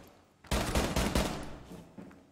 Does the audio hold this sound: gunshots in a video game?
yes